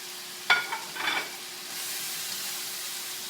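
Leftover vegetables dropped into a hot pan for stir-frying, with a few sharp clatters and a burst of sizzling that settles into a steady hiss.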